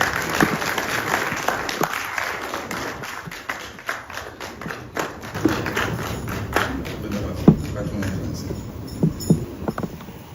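An audience at a formal state event applauds as the President and Commander-in-Chief of Ghana's armed forces is called to speak, loud dense clapping with scattered louder claps and thumps throughout.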